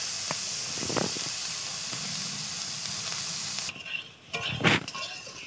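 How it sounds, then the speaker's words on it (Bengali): Cauliflower fries in a wok with a steady hiss and sizzle and occasional stirring scrapes, then the sizzle drops away and a brief clatter follows near the end. "দেখো ফুলকপিটা আমার প্রায় ভাজা হয়ে এসেছে।"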